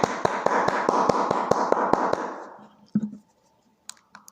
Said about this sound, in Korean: 우리 함께 하나님께 영광 돌리는 박수로 예배를 마치겠습니다.